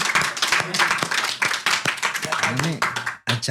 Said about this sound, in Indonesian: Tepuk tangan lagi buat Mia